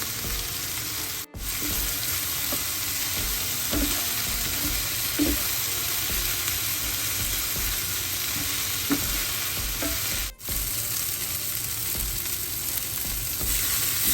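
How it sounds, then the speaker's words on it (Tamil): Onions and green chilies sauté in a pan for an egg masala fry, giving a steady, close sizzle with occasional stirring clinks and scrapes throughout, and no one speaking. "வெங்காயம் பச்சைமிளகா நல்லா கொஞ்சம் நேரம் வதங்கட்டும்."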